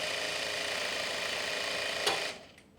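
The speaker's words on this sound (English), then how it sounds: "On the Juki Industrial straight stitch, when you sew, the bobbin winds simultaneously." A Juki industrial straight stitch sewing machine runs steadily while its bobbin winds at the same time, a continuous close whirring hum that cuts off sharply near the end before a brief quieter tail.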